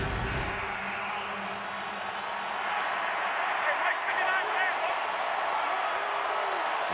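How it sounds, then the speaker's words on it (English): A stadium crowd at a 2015 Jets at Cowboys NFL game roars steadily on a third-and-long defensive stand, a dense, continuous wall of cheering beneath a commentator's talk. "The crowd here urging on their defense to make a stop on 3rd and long for the Jets."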